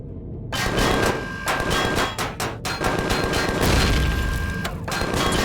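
Sentry guns in Empyrion Galactic Survival firing heavily, with loud, continuous rapid gunfire and booming impacts that hardly pause.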